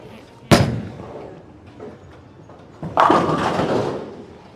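A Brunswick Combat Hybrid bowling ball strikes the pins in a bowling alley. A loud, sharp bang is followed a few seconds later by a broad, clattering crash that fades out, with faint voices in the background.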